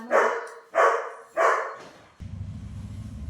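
Three loud barks from a nearby dog, evenly spaced over the first two seconds, then a low steady hum with no talking.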